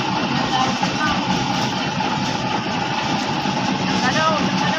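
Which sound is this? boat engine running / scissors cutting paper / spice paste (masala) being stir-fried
boat engine running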